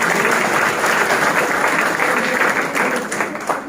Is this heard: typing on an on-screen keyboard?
no